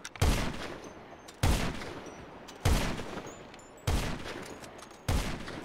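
A gun in a video game fired at a normal pace, five loud, sharp shots spaced about a second apart, each followed by a short decaying tail, with no talking.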